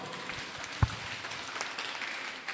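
A congregation at a Kikuyu Sunday church service applauds in a thin, scattered wash of clapping with one sharp knock near the start, heard at a moderate distance and fairly soft.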